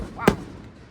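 A single firework bursts with a sharp, loud crack and a short echoing tail, part of a Labor Day fireworks display in Boiling Springs, Pennsylvania.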